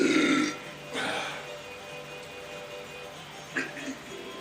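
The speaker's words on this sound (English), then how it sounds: "Foam burp." A foamy burp after drinking HBW malt liquor, loud and close at the start, followed by a softer second belch and a few small gulping sounds against a quiet room.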